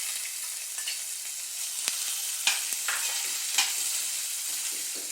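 Small onions dropped into hot oil, a bright continuous sizzle with a few sharp crackles and spatter bursts, close and steady, no voices.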